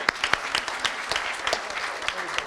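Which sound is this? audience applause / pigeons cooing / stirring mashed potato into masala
audience applause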